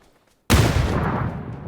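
Gunfire erupts at close range in PUBG, a sudden loud burst that fills the space and rolls into a sustained rumble of shots, with no talking.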